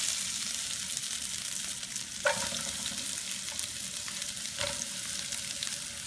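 Onions stir-frying in hot vegetable oil for a fajita chicken salad, an even close sizzle with a couple of sharp clacks of a utensil against the pan and light stirring, no voices.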